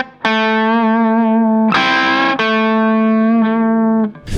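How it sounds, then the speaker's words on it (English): Electric guitar through an amp with the gain turned high, giving a thick, distorted tone. Two loud sustained notes ring out with a brief harsher strum between them. "High gain will distort even at low master volume."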